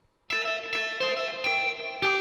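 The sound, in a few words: heavy reverb guitar effect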